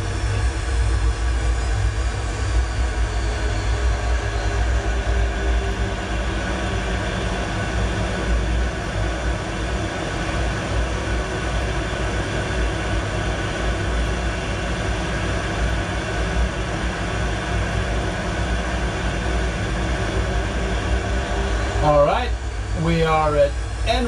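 Ryanair jet engines spooling at takeoff power, a steady, loud roar that fills the whole stretch without letup, with a brief burst of other sound right at the end.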